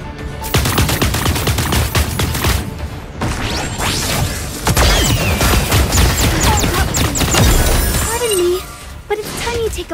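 Rapid bursts of gunfire in Super Mecha Champions crack out in dense volleys, loud and close, mixed with shattering impacts and chaotic battle noise, while voices talk over parts of the action.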